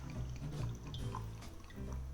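Sparkling water poured from a bottle into a glass to top up an alcohol-free rosé drink, a steady close fizzing, splashing stream running for the whole stretch with no voices.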